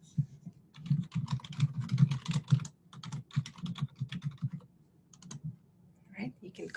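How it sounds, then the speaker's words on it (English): An email address typed on a computer keyboard in a presentation setting: rapid bursts of close key clicks with short pauses, fairly loud, and no speech over them. "I can also type one more time my email"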